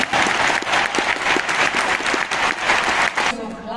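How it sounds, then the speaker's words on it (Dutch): Audience applause at an event honoring wind-film contributors, dense rhythmic clapping close and loud with audible individual claps, breaking off abruptly near the end. "applaus"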